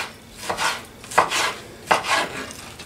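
Three crisp knife chops on a cutting board as chicken meat is cut, spaced about evenly with short pauses between, close and fairly quiet against a still kitchen.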